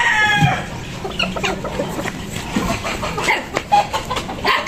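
A Gilmore Hatch gamecock rooster clucks and calls repeatedly at close range, with farmyard background noise and faint other birds.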